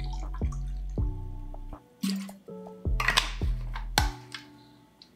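Clarified Long Island iced tea poured from a chilled bottle over a large clear ice cube, several distinct liquid splashes and drips with ice clinks in short irregular bursts, close and fairly quiet.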